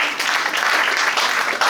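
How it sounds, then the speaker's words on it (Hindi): Brief burst of steady audience applause for Mr. Bean in a classroom session, dense clapping throughout with no pause. "एक बार मिस्टर बीन के लिए ताली।"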